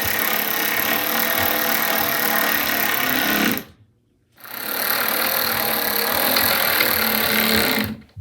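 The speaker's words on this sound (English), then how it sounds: "we are going to attach it with the screws from the bottom" A power screwdriver drives screws up through a plywood countertop into a desk from underneath, in two loud, close, sustained whirring bursts of about three and a half seconds each, separated by a short pause.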